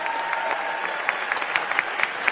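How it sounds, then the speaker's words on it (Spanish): Audience applause at an event with students of the Tec de Monterrey, steady dense clapping from a crowd with a few sharper individual claps standing out, continuous for a couple of seconds. "Ahí está, un aplauso,"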